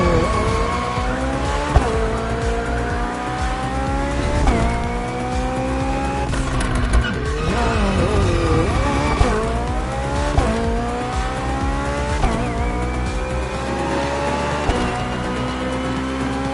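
Hybrid V8 race car in The Crew Motorfest roars loudly and continuously, rising through gears with repeated upshift dips, accompanied by tire squeal during a short race.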